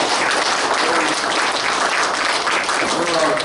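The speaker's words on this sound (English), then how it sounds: "can we give a round of applause to welcome the two new sponsors" Audience applause at a real estate investor group's anniversary event, dense sustained clapping from a room full of people, steady and fairly loud throughout.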